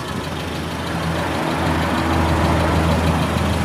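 A 2005 Suzuki Carry Futura idles with its engine running, a steady low mechanical hum and drone, close and constant throughout, with no talking.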